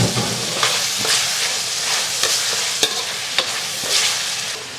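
Spices stir-fried in hot oil in a wok, with doubanjiang, hotpot base, scallion, ginger and garlic, give a steady close sizzle broken by scraping clinks of a spatula against the pan.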